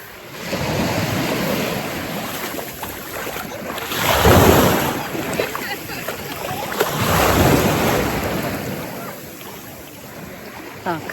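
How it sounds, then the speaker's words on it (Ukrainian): Gentle sea waves roll in and wash out in slow surges, with steady wind rumbling against the microphone. "Водичка мутна у нас сьогодні, але спокійне море."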